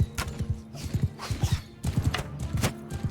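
Horse archers galloping in Mount and Blade Bannerlord, a steady rhythmic clatter of many hooves thudding close by, with brief pauses in the beat.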